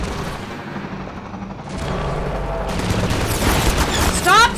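Gunfire aimed at the player in a bug-shooting video game, a rattling stream of shots that grows denser and louder toward the end amid battle noise.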